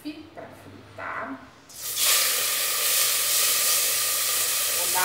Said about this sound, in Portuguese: colocar o bife para fritar